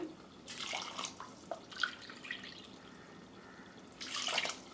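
Water poured into a cooking pot of rice for jeera rice, 5.5 cups of water to 3 cups of rice, in three splashing bursts with short quiet gaps between them, moderately close and with no talk.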